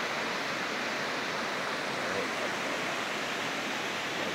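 Small roadside waterfall in Uttarakhand, swollen by monsoon rain, gives a steady, even rush of falling water throughout, fairly soft and without voices.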